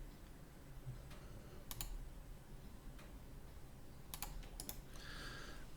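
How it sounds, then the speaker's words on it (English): Sparse keyboard presses during 3D modeling of a car rim in Plasticity: a few isolated clicks and short bursts of keys, close and fairly quiet over a low steady background hum, with no talk. "we're going to hit 1 on the keyboard"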